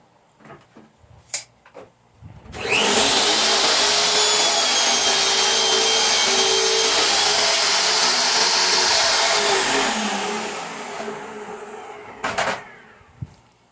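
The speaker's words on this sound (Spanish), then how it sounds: "ahorita lo que voy a hacer va a ser cortar el fondo a la medida que ya habíamos sacado" A power tool roars into a loud, sustained cut through an MDF drawer bottom panel in a furniture workshop, running for about seven seconds before winding down, with a few knocks and clatters before and after.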